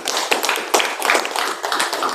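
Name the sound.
audience clapping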